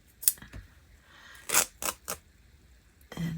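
Scissors snipping and paper ripping while unboxing Christmas taperlogy items, a few separate crisp cuts and tearing bursts with short pauses between, close and clear, no voices.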